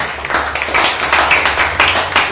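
A church congregation claps for the Lord during a fasting-day service on the Gospel of Luke. Loud, close, rhythmic clapping pulses evenly through the short stretch, with a low hum underneath.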